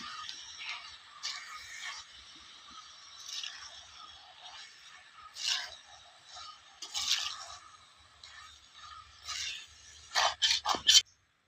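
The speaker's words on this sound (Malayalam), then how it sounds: "എല്ലാം കൂടി നമുക്ക് ഇളക്കി കൂട്ടിയെടുക്കാം ഇനി ഇതിനകത്ത് കിടന്ന് ചിക്കനൊന്ന് നല്ലതുപോലെ മൂപ്പാവും" Chicken and onions are stirred in a frying pan, giving quiet intermittent scrapes and squishes as a spoon works the mix, ending in a few sharp clatters. No one speaks.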